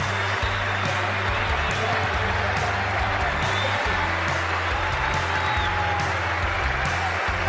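Cricket crowd at the Sydney ground applauding steadily as captain Graeme Smith walks out to bat, a broad, even roar of clapping from a distance with a commentator's voice over it.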